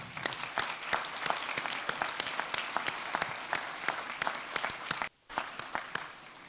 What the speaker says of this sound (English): please, everyone accept our thanks and applause.